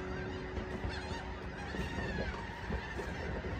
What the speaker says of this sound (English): Can you hear those birds out there?